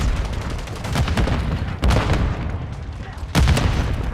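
Grenade blasts and gunfire in the video game Call of Duty Modern Warfare 3: continuous battle noise with two sharp, loud explosive bursts about a second and a half apart.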